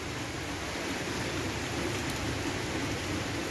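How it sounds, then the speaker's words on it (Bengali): Rain that has eased to a lighter fall keeps up a steady, close hiss of drops for a few seconds, with no voices. "মানে আসতে হলো বৃষ্টিটা"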